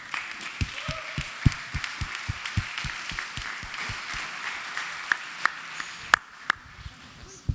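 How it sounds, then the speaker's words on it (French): Audience applause welcoming two presenters at a festival pitch session, moderate clapping with distinct rhythmic claps standing out near the microphone, fading to a few isolated claps. "Et on les applaudit."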